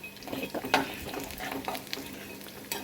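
Food fries and sizzles in a pan while a utensil stirs it with repeated scraping and knocking strokes, close and fairly quiet.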